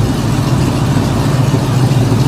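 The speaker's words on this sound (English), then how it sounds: "Really strong running little engine." A muscle car engine with a mild cam runs at idle, a loud, close, steady low rumble with a slightly uneven throb.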